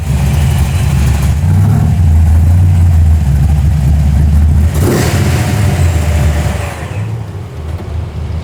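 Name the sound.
car with slant 6 engine running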